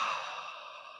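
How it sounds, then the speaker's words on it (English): One long, soft exhaled sigh, breathy and close, fading over about a second with no talking. "And also breathe."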